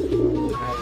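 A pair of pigeons, a male and a female, coo close by in one short, low, throaty rolling call, clear and alone.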